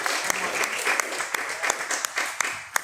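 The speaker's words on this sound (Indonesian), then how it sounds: "Boleh tepuk tangannya dulu." Light, scattered hand clapping from a small audience at a media literacy outreach session, with individual claps distinctly spaced rather than a dense roar.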